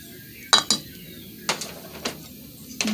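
A utensil scrapes and knocks inside a pot while pork kidney stew is stirred, a few sharp metallic clinks spaced irregularly over a quiet background, close by.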